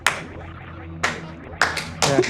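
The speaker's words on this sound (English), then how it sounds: "And one bonus clap." A handful of sharp, isolated hand claps spaced irregularly over a couple of seconds, near and fairly loud against a quiet background, from an audience at a Super Metroid randomizer speedrun race event.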